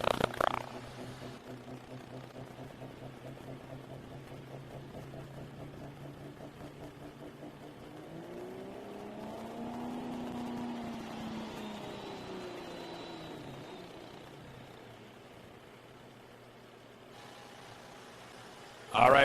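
Super stock diesel pulling truck at the Junction Town Showdown in Osceola, Iowa, its engine droning steadily from a distance, swelling briefly as throttle comes on, then backing off and settling again.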